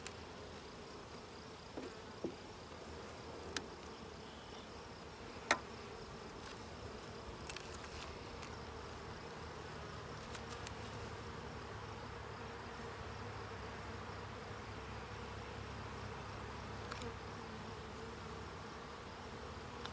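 Saskatraz-line honeybees hum steadily around an open hive in an apiary, a continuous close buzz with a few brief clicks and knocks of handling, no voices.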